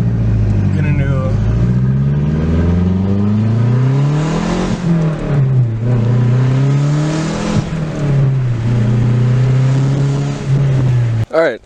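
A Mazdaspeed 6 with a custom exhaust revs loudly and close, rising and falling several times with a deep droning note, recorded from the passenger seat.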